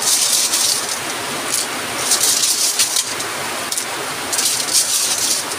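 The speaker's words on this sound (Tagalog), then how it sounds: "Grabing lakas ng ulan." Heavy rain pours down in a steady, loud hiss and patter across a surface, dense and continuous with small surges in intensity.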